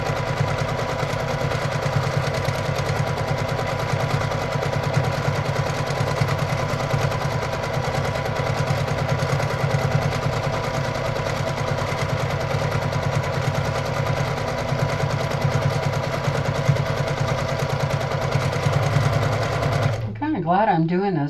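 Brother PQ1500SL domestic sewing machine doing free motion quilting, a steady fast needle chatter running continuously and close for about twenty seconds before stopping abruptly near the end.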